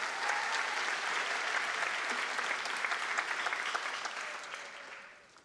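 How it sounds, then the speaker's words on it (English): Sustained audience applause for a school orchestra at a high school showcase, a dense, full wash of clapping that holds steady and then fades out toward the end. "how about a round of applause for members of our orchestra under the direction of Mr."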